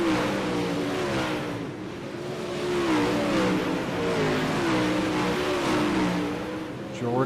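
Race car engines rev and drone at a dirt track event at I-55, several cars pulling away and passing in swells of rising and falling pitch, loud and continuous.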